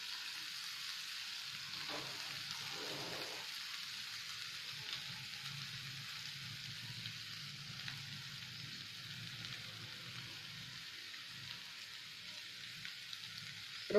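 Ground masala fries with mutton, ginger and garlic in a pan, giving a soft, steady sizzle with faint stirring scrapes, low and continuous throughout with no talking.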